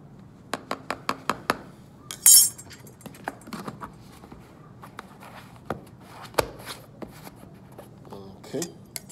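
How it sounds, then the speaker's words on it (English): Iron filings being stirred into a mixture in a classroom, giving scattered light metallic clinks and scrapes in an irregular rhythm, with one brief louder rattle near the start. Quiet room tone sits underneath. "Okay, and I give it a little stir."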